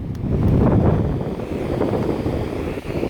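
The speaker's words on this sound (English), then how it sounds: "Probably can hear the sound of that wind" Strong, steady wind buffets the microphone on a cool, windy beach at Port Aransas near a parked car and canopy, a loud continuous low roar with no voices.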